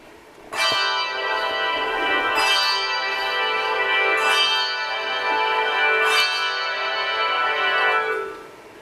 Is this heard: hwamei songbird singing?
no